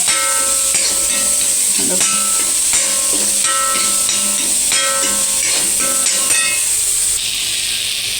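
Green chilies are stirred into a hot frying pan while cooking a green peas egg fry, with loud steady sizzling and hissing throughout and occasional scraping clicks of a spoon against the pan.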